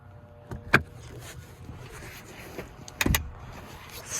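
The third-row seat of a 2018 Nissan Pathfinder 3.5 S 4WD rises on its hydraulic strut, giving two brief mechanical clunks with a faint whir, close up in a quiet cabin.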